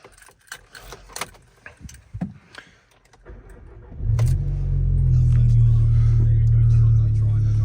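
Keys to a Volkswagen Golf GTI Clubsport Edition 40 jangle and click in short bursts for a few seconds. A low, steady engine drone then takes over and holds to the end.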